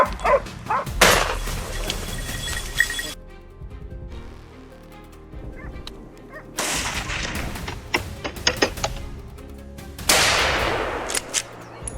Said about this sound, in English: My hunting dog suddenly started barking uncontrollably and darted forward